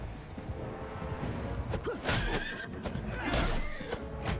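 Horse whinnying in the Game of Thrones total conversion mod of Mount & Blade during a battle: a loud neigh rises around two seconds in and repeats near the end, over steady game noise and hoofbeats.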